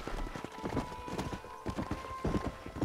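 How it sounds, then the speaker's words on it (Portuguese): Horse hooves clip-clop in a fast, steady galloping rhythm during a horse race in the Red Dead Redemption video game, loud and close with a faint tonal hum from the game underneath. "De é uma corrida a cavalo."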